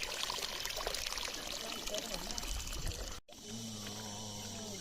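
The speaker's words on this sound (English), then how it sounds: "This is Evangelist Abu washing the cups." Water pouring steadily while cups are washed at a clean spring-fed water source at a homestay, a continuous close splashing stream that cuts off abruptly and gives way to a quieter hum.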